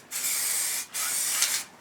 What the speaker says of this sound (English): using the paint, using the can, the action of moving the can backwards and forwards